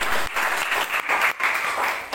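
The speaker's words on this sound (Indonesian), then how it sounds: "Beri tepuk tangan kepada" A church congregation claps in a steady, dense burst of applause during a sermon, loud and continuous for a couple of seconds with slight dips.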